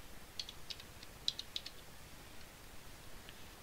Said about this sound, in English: type in your default gateway